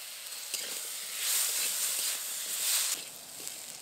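Potato and eggplant with salt, turmeric and spice paste sizzle in a pan while being stirred. The frying hiss is steady and moderate, swelling a little at each stir, and no one speaks.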